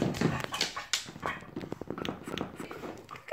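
A dog whimpers and gives several small yips and barks, close by and fairly soft, with short bursts spread over a few seconds in a quiet room.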